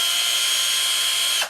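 A cheap cordless drill bought from Amazon, fitted with an LED at the base, runs steadily as one continuous high motor whine that holds level and then cuts off abruptly at the end, heard close and alone.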